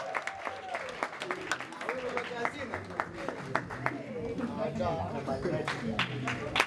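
Audience applause at a Congolese youth party in Baltimore, with steady crowd clapping mixed with cheers and chatter, and voices heard throughout.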